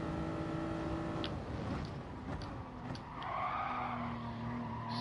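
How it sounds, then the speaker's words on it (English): A race car in GT Sport skids through a banked turn and slides out onto gravel, with a tire squeal and engine noise over a steady hum, fairly quiet. "Skidding it round, and we're gravel"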